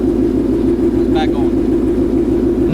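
A car engine misfiring on one cylinder runs close by with a loud, steady low hum and a faintly uneven pulse, and a brief higher squeak rises above it partway through.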